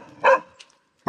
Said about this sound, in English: You know why this dog is barking?